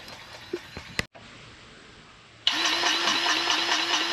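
A machine engine cranks and catches at about two and a half seconds, then runs steadily with a loud, even, rhythmic chug, after a few scattered knocks and a brief silence.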